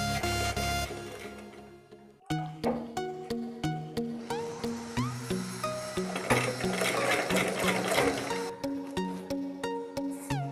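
A sewing machine stitches a baby frock made from leftover fabric, running in a steady series of rhythmic pulses after a brief pause, close and fairly loud with no talking.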